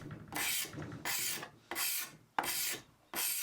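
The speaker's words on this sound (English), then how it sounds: "I used my carbide scraper instead, and that worked well too" A carbide scraper drawn across a wooden cocktail cabinet top in long rasping strokes, five in a steady rhythm with short pauses between, close and loud.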